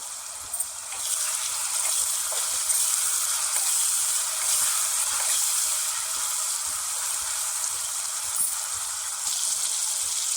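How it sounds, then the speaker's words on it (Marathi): Tomatoes with salt cook in a pan, giving a steady, close sizzling hiss that holds evenly throughout without talk. "एक चम्मच मीठ घालून घेते टोमॅटोवर टोमॅटो चांगला मऊ शिजून घेऊ आपण"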